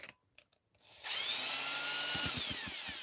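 A cordless drill whirs steadily for about two seconds as its chuck cranks a bolt onto a fuel-powered RC model, with a few faint clicks just before it starts and a quick burst of low ratcheting pulses near the end.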